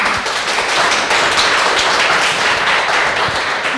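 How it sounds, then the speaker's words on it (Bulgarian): Conference audience at a technical university hall applauding a speaker, dense steady clapping from many hands filling the room, loud and continuous throughout with no voices over it. "Аплодисменти за Велина."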